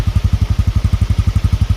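A 2023 Honda CT125 Cub Hunter single-cylinder motorcycle idles close by, its low engine thumping in a quick, even pulse, loud and steady without voices.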